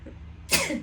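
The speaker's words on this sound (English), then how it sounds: "I'm sorry, I sneezed" A single sharp, close sneeze bursts out suddenly after a quiet moment and fades with a short breathy tail.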